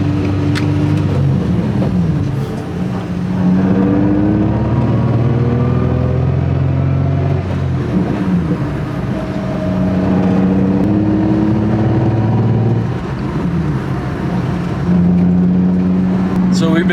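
Nissan 350Z on a drive after a transmission fluid change, with a steady engine drone that rises and falls through the gears, heard from inside the cabin as people talk over it.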